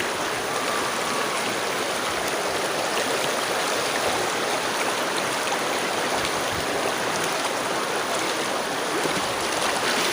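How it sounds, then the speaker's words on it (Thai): River water flows continuously at the Kaeng La-or river near Xepon, a loud, steady broadband rush with no pauses and no voices. "เสียงน้ำไหล"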